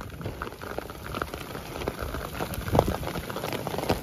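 Steady heavy rain pours down in Anekal, a dense continuous patter on surfaces that swells slightly toward the end, with no voices.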